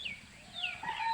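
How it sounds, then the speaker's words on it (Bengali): Chickens call briefly outdoors, a couple of rising and falling cries heard at moderate distance over a quiet background. "মুরগি যেমন ডাকাডাকি করতেছে,"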